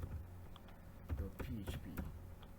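Quick, uneven keystrokes clatter on a computer keyboard, fairly close and soft, with a voice speaking over part of the tapping.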